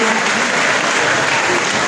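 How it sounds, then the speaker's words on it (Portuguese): Loud, dense applause from a congress crowd for the national coordinator, a steady wash of many hands clapping at once with no gaps for the full stretch. "Uma salva de palmas para o coordenador nacional."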